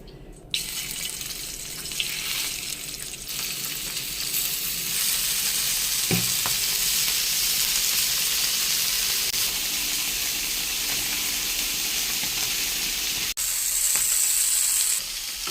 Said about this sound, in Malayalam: അടുത്തായി നമുക്ക് മീൻ പൊരിക്കാം മത്തി